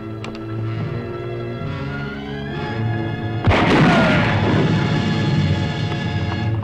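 A single loud gunshot-like boom cracks out over a continuous orchestral score in a western ranch drama, fired toward a black stallion.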